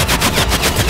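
Rapid automatic gunfire from the video game Cyberpunk 2077, a loud, dense burst of about eight close shots fired in quick rhythm, with no talking over it.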